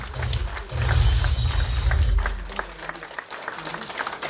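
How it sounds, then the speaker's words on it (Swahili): A church congregation claps their hands in praise to God. The applause is loud and dense at first and then thins into scattered, sharper claps, with faint voices underneath. "Tupigie Mungu wetu makofi mazuri. Piga tu makofi tu."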